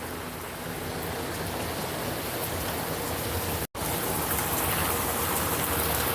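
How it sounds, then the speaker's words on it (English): Heavy rain pours down steadily outdoors, a loud, dense hiss of drops on surfaces that fills the whole stretch, broken only by a momentary cut to silence partway through. "Yeah, it's coming down for real."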